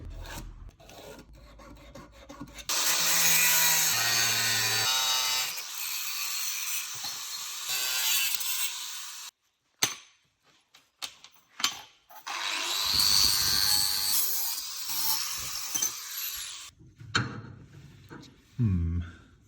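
Metal strip being cut for a gearbox mount brace on a 2JZ-swapped Datsun 240Z, long loud bursts of grinding and rasping in two main runs, with short breaks and clanks between.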